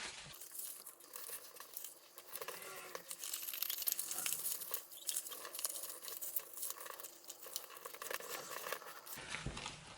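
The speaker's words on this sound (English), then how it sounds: "folding it in the middle" Gelli print paper being folded in half, a steady papery crinkling and rustling close by that runs through most of the stretch without any talk.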